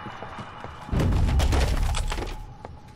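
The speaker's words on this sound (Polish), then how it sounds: "Szafa panu spadła" A wardrobe crashing over in a horror video game, a sudden heavy thud with splintering, clattering debris that hits hard about a second in and then fades out over the next two seconds.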